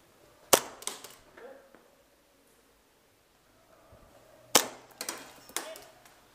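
Airsoft guns fire during a close-quarters battle game, with sharp single shots, one near the start and a cluster of three or four around the middle and end, separated by quiet gaps with faint shuffling.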